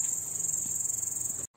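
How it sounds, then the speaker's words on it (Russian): Outdoor grasshoppers keep up a dense, shrill chirping chorus in summer, a continuous high buzzing that carries steadily and then cuts off abruptly near the end. "Кузнечики стрекочут. Интересно, это будет слышно на видео, но тут целый концерт кузнечиков."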